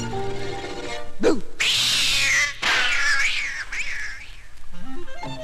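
Several cat meows and drawn-out yowls, loud and close, rising and falling in pitch over a steady low background hum.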